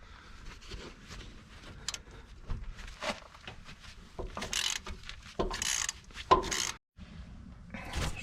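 Ratchet working a 40mm bolt loose on a Kia Sorento upper control arm, with scattered clicks, scrapes and metallic knocks close by, broken into short irregular bursts.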